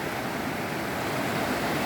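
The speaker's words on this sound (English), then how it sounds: "Just look at the beauty and the flow of this river Lida" Steady, broadband rushing of the Lidder river flowing through the mountain valley at Pahalgam, a continuous, loud wash of water with no voices.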